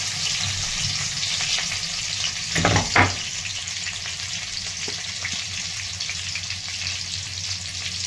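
Stuffed eggplant frying in hot oil with cumin, mustard seeds and garlic, crackling in a continuous sizzle; a brief louder burst of spattering and stirring comes near the middle, and no one speaks.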